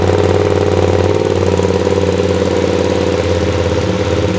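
A QJMOTOR SRT 800SX two-cylinder motorcycle on its stock exhaust pipe runs loud and close, a deep throbbing, pulsing engine rumble that holds steady throughout with no talk over it.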